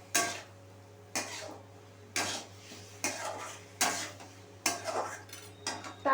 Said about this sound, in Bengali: আলুগুলো দিয়ে একটুখানি কষিয়ে নিতে হবে।